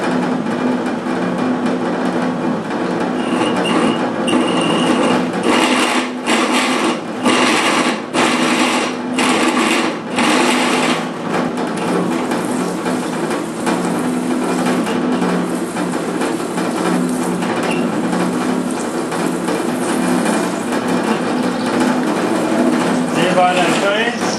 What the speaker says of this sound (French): Alors, je vais faire mon perçage.